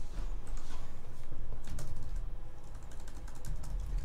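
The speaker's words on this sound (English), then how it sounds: "So I'm going to type in a book." Steady typing on a computer keyboard while filling out a form, with rapid close-up key clicks continuing throughout and no talk.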